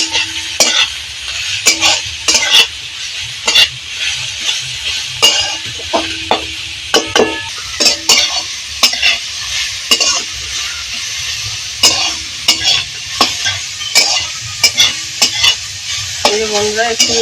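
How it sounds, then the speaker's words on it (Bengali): Carrots fry in hot oil in a pan while a spoon stirs them in repeated scraping strokes, loud and close over a continuous sizzle, with a few cutlery knocks against the pan and no talking. "গাজরটা দিলে দেওয়া হয়ে গেলে এবার নেড়ে দেবে"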